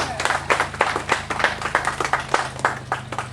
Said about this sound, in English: how about a round of applause for the alligator?